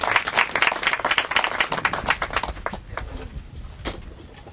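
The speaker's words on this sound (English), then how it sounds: "Let's give her a big round of applause as she comes in" Applause from an audience at a school groundbreaking ceremony, loud and brisk at first, then tapering off over several seconds into fainter, sparse claps.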